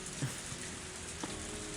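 A heavy rain downpour from a visual novel game, a steady, dense hiss of rain on a surface that fills the background evenly, with no talking.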